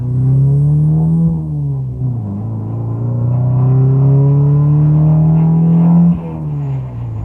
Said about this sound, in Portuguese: passando para a terceira marcha, obviamente é melhor não apressar